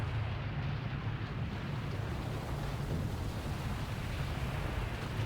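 An explosion in the video game The Legend of Dragoon sounds as a steady, loud rumbling roar that fills all five seconds without letting up, with no talk.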